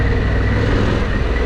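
Harley-Davidson Pan America adventure motorcycle riding a back road near Nelson, New Zealand, with a steady, loud low engine drone and wind rush throughout, no talk.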